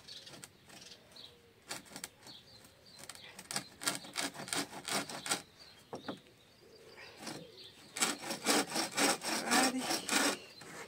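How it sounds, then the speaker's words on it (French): Hand saw cutting through a wooden board outdoors, with bursts of rhythmic back-and-forth strokes that grow denser and louder toward the end, and birds faintly calling in the background. "je scie à peu près ici"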